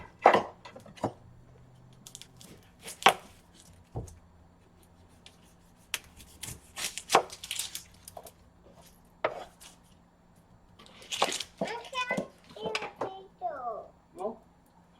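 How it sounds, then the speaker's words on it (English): An onion being chopped on a board in a home kitchen while making scalloped potatoes, irregular knife taps and thuds, close, mixed with adults and someone talking. "while I chop up an onion"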